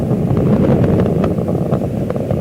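The main engines of Space Shuttle Atlantis roar at full throttle during the STS-104 launch, a loud, steady, low rumbling roar with a wind-buffeted crackle and no break.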